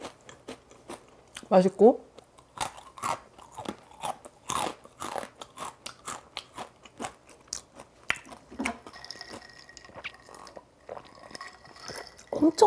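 Crunchy Blue Takis rolled tortilla chips being bitten and chewed close up, a quick series of sharp crisp crunches with pauses between them, and someone speaking Korean briefly in between.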